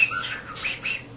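A pet cockatiel gives several short bright chirps and whistles close by, in quick succession, with no talking over them.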